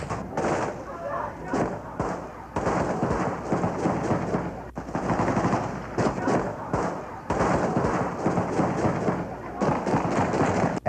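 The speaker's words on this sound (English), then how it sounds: "At least one gunman climbed a TV antenna and began shooting at the government television station seized yesterday by the opposition." Sporadic gunfire during violence in Manila, a gunman shooting near a seized government television station, rapid irregular cracks and thuds in archival news sound, under talk.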